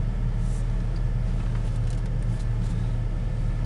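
A 2000 Chevrolet Silverado LS extended-cab 4x4 pickup driving on a test ride, with a steady low engine and road rumble heard from inside the cab, continuous and even throughout.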